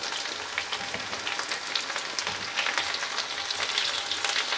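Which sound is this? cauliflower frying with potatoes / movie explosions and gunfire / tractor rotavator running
cauliflower frying with potatoes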